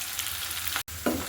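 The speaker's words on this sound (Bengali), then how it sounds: "গরুর মাংস কুচিগুলোকেও কিন্তু ভালো করে ভেজে নিতে হবে।" Minced beef fries in a pan with a steady, close sizzle, broken by a brief stir and a short gap.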